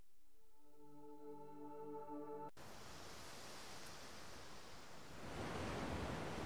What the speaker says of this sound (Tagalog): So, parang naging tunog dagat siya. Siyempre, beach team nga eh.